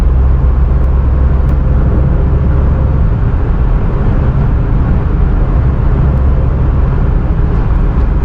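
A car cruises along a highway at around 80 to 90 km/h, heard from inside as a loud, constant low rumble of engine and road noise with no breaks.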